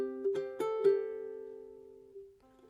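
Ukulele fingerstyle passage played slowly: a few gently plucked notes and a soft chord ring out clearly, sustaining and fading, then one more quiet pluck near the end, solo and close.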